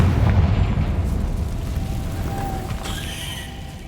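Confringo fire-blast spell in Hogwarts Legacy, a loud rumbling explosion that booms up front and slowly fades over a few seconds, no talking over it.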